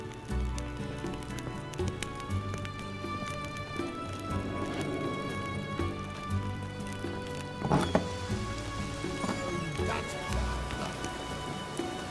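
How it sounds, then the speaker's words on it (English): Steady rain patters on surfaces in The Witcher 3 game world, a dense continuous hiss with scattered drops, while horse hooves clop and faint game sounds and a voice come through underneath. "Rain again."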